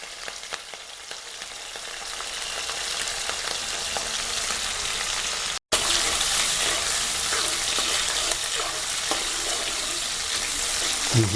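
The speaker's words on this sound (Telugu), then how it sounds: "వేడైనాక ఒక 5 పచ్చిమిరపకాయలు కట్ చేసినవి కోసి పోపులో వేయాలి." Steady, loud sizzling of cut green chillies frying in hot tempering oil, continuous throughout with a brief dropout midway and occasional stirring scrapes.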